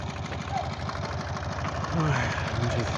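A tractor engine runs steadily while ploughing across a steep hillside slope, with the plough set to minimum working width. Its low, rhythmic chugging stays fairly loud and constant throughout, with some faint background noise.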